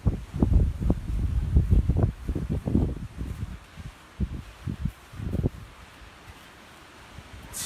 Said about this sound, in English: getting really windy out here,